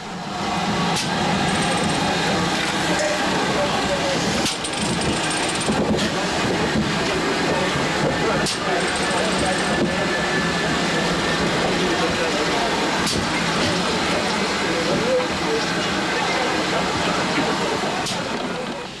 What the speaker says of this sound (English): The engine rolls forward on its remaining steam.